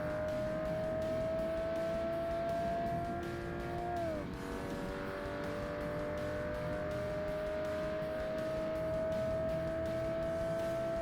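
A roadster race car engine in an amateur roadster challenge in Forza Motorsport holds a steady high-revving whine, dips briefly with a gear shift, then climbs again, with faint tire noise beneath.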